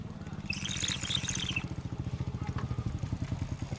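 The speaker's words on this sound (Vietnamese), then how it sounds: "Thế nào hôm nay đi xe máy à?" A motorbike rides up close by with a rapid, pulsing engine putter. Faint voices are heard briefly in the background.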